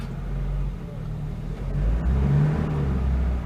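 A 1975 Mitsubishi Colt 1400 Delica minibus engine hums low and steady, then rises a little as the minibus pulls away in first gear.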